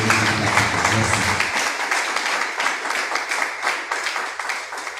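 An audience claps steadily at an honour ceremony for a teacher, a dense, sustained wash of applause filling the room, with a voice briefly heard under it at the start.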